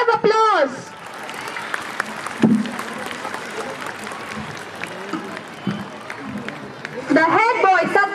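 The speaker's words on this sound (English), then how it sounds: "Please give them a huge round of applause." Applause from an assembled school audience at an investiture ceremony, rising for council members being introduced. A steady wash of clapping runs throughout under a voice speaking over a loudspeaker.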